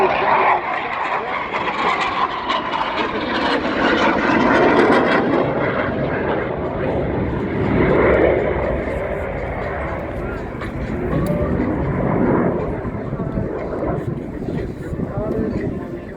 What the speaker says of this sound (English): aircraft is quickly, very quickly accelerating